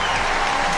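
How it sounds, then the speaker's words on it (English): A home crowd at a World Athletics Championships race in Oregon roars and applauds, producing a dense, steady, loud wash of cheering and clapping. "Johnson getting roared on by the home crowd"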